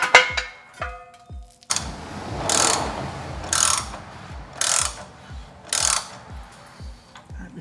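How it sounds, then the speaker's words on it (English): A ratchet wrench snugs up the body bolts on Steinjager Phantom Series rock sliders, sounding a close, loud run of rapid clicks in several bursts, with short pauses between strokes. "Now we just need to get another tool on there and just snug those up"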